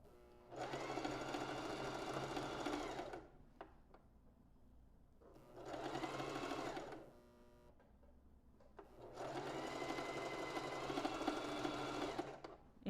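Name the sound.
domestic sewing machine sewing a straight stitch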